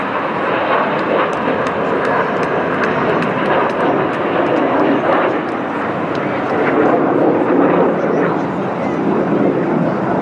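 Red Arrows, the RAF aerobatic jet team, roaring overhead at the English Riviera Airshow 2024, a loud continuous jet rumble with wind buffeting for the full stretch, with a commentator's voice mixed in.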